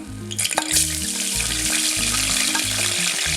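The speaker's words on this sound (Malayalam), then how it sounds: "ഇത് ചൂടായതിനു ശേഷം ഇതിലേക്ക് ഇഞ്ചി വെളുത്തുള്ളി ചതച്ച് ചേർക്കാം" Crushed ginger and garlic drop into hot oil with fenugreek, cinnamon and cloves for a chicken curry, bursting into a loud, dense, continuous sizzle that stays close and strong throughout, with a few stirring clinks at the start.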